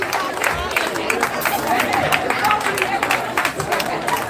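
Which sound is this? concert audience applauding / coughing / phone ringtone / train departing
concert audience applauding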